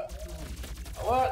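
DOOM 2016 multiplayer gunfire comes as a quick run of low thudding shots, with a voice speaking over the top.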